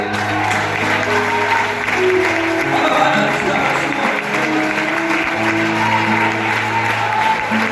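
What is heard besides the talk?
congregation applause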